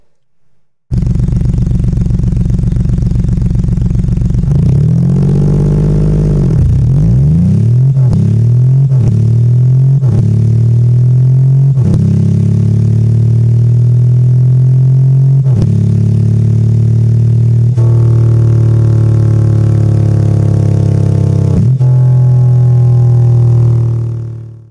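A computer-simulated engine with split rod journals fires evenly, starting from silence into a loud steady drone, then sweeping through quick revs and holding a smooth, even tone at several speeds before cutting off.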